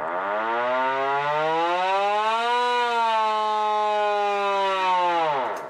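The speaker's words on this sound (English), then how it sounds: "Air raid siren? They make a hell of a noise." A single loud air raid siren wails close by, rising in pitch, holding a long steady howl, then winding down at the end; no talking.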